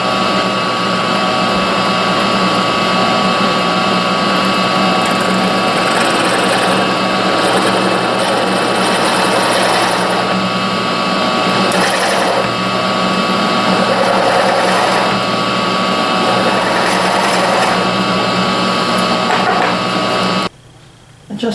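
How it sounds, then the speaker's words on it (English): A power tool whirs steadily while cutting aluminum extrusion pieces, a loud continuous mechanical drone with brief pitch shifts, stopping abruptly near the end. "Just finished cutting all these pieces for the top of the extrusion"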